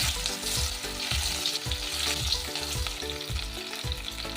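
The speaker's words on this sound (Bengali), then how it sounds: "দেবো একটা ফোড়ন। তাই নিয়ে নিয়েছি 2টো শুকনো লঙ্কা আর একটু জোয়ান।" Dried red chillies and ajwain sizzle in hot oil as a tempering for a stuffed gathi kochu and onion dish, a loud close crackling fry with bursts of popping and stirring clatter, no voices.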